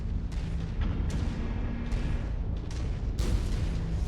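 A mech's autocannon firing in the video game Mechwarrior 5: Mercenaries. Heavy booming shots land about every second over a constant roar of battle noise, loud and close, with no talk.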